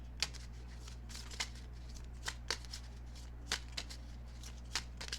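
Tarot cards being shuffled by hand close by, with quick riffles and soft slaps in irregular bursts over a steady low hum.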